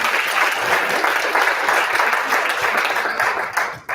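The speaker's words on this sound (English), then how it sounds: "Let's clap for her." At a company Mother's Day commemoration, an audience applauds a speaker with loud, sustained clapping from a crowd, dense and even, dipping slightly just before the end.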